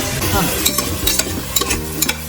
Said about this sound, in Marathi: आता जे आपण मगाशी कांदे चिरून घेतले ते यात घालूया